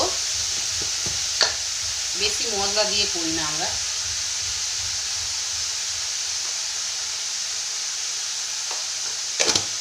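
A banana stem curry with potato, pumpkin and chickpeas fries in a pan, giving a steady, even sizzling hiss throughout. Someone talks over it, with a couple of light clinks near the start and end.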